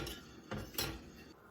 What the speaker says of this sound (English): I'm going to just keep stirring it because I want the honey to melt in there